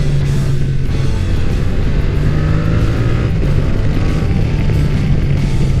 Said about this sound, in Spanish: No hace falta un quick shifter para meter marcha sin embrague.